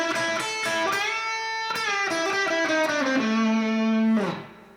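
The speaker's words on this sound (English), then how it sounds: "But with the blues note" Overdriven electric guitar plays a short blues lick with the blues note added through a Boss Harmonizer, several picked notes bending downward and sustaining before a quick fade, loud and alone without speech.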